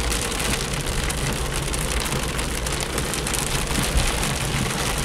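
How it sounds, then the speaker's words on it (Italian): Heavy rain downpour drums steadily on a Fiat Panda while driving along country roads in a storm, a dense, loud, continuous roar with no speech. "Ed ecco il diluvio."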